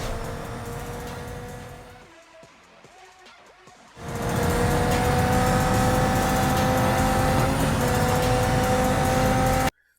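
A racing car engine in the mobile racing game Need for Speed No Limits drones steadily and loud, drops away briefly into a quieter gap, then returns at full roar with a sustained high whine until it cuts off.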